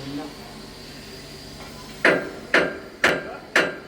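Four sharp metallic hammer blows land about half a second apart on a part of steam locomotive 34028 Eddystone in a railway works, following a quieter stretch of workshop background.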